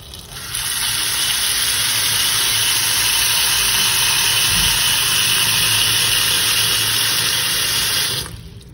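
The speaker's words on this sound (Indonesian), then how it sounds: "nyalakan keran air mengalir ya kurang lebihnya 30 detik aja ya teman-teman" Water gushes steadily from a tap while cherries are washed, a loud continuous hiss and splash that starts abruptly and stops near the end.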